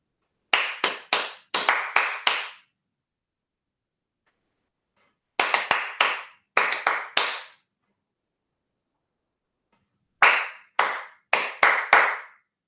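A teacher claps out rhythms for a classroom clapping game: three crisp bursts of four to five sharp claps each, separated by silent pauses, close and loud with no talking.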